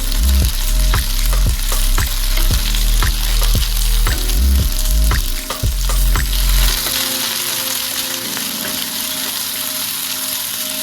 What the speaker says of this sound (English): At this time, we want to get a nice sear on the green beans, and we also want to see the green beans blister.